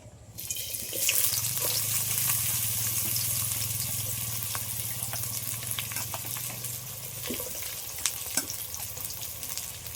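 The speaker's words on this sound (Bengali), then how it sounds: "তার মধ্যে দিয়ে দিচ্ছি সর্ষের তেল আগে গুলো ভেজে নেব" Mustard oil hisses and sizzles steadily in a pan while ingredients for a cauliflower biryani fry, a continuous close, fairly loud crackle with a few faint clinks near the end.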